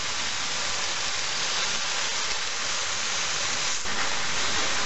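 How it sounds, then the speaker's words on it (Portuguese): Bell peppers and bean sprouts hiss and sizzle steadily as they sauté in a hot pan with onion, a loud, continuous frying noise with no talking. "Agora a gente refoga somente para dar uma murchada nesses vegetais"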